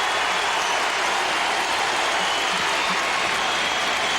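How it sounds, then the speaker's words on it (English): A basketball arena crowd at a 1997 college game, Kansas against Western Kentucky, roars and cheers. The noise is a continuous, loud wash of many voices that holds level throughout. "the crowd, for the first time, really starting to make a lot of noise"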